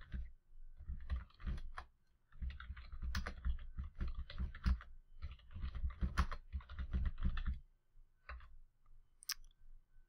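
Computer keyboard typing at close range, quick bursts of soft clicking keystrokes with short pauses between runs, ending in a few isolated key taps.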